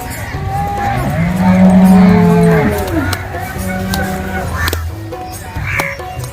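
Dairy cow at a Loni cattle market where cows are offered for sale, giving a loud, drawn-out moo alone, followed by fainter lowing and other market animal sounds.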